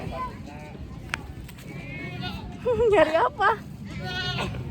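Goats bleat during an Eid al-Adha outing to look for livestock, with a couple of short, wavering bleats near the middle rising over ongoing talk and outdoor background noise.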